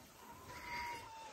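A house cat gives a faint, drawn-out meow in a quiet room during a squabble over a hammock, heard alone at low level with a soft background hiss.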